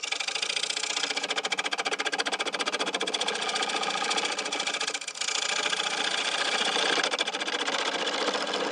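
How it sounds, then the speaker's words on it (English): Wood lathe spinning a bowl blank while a bowl gouge cuts toward the center: a continuous, rapid, buzzing chatter of the tool on the wood, loud and close, with one brief dip partway through. "I'm going to use the bowl gouge. I'm going to bring it up almost to the center."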